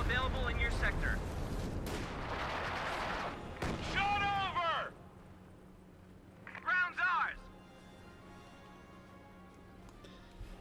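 A Stuka rocket artillery barrage lands in a Company of Heroes 2 tank battle, with a cluster of booming impacts early on, then quieter stretches, under a commentator's talk.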